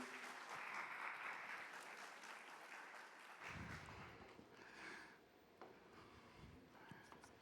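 A church audience at a leaders' gathering claps for a pastor, a dense burst of applause that thins and tapers over several seconds.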